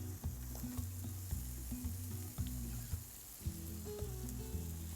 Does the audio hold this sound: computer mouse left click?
no